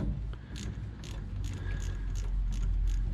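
A socket wrench loosens bolts on an MGA 1600 bonnet, giving quiet, rapid ratcheting clicks in short bursts against a faint workshop background.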